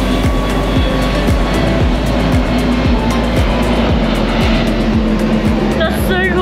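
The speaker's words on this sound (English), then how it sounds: "So at this rooftop, you can actually see airplanes taking off." A loud, steady jet engine roar as an airplane takes off from Da Nang, Vietnam, close by and continuous, heard from a rooftop, with voices talking over it.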